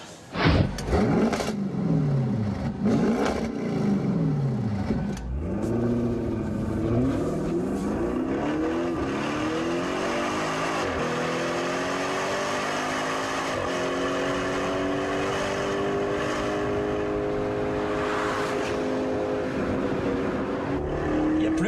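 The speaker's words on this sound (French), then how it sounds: "On a l'impression d'avoir un moteur plus gros, un moteur de Chevrolet Corvette, un gros V8 à l'américaine." A loud engine revs repeatedly in sharp bursts, then holds a deep, sustained roar that climbs and settles, rumbling from a throaty Akrapovic sports exhaust close up.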